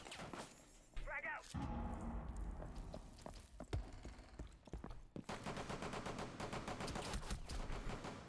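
Gunfire in a video game: a burst of sharp shots and rapid automatic fire, with a crashing impact, close and loud over a rumbling background, while a player's voice talks in between.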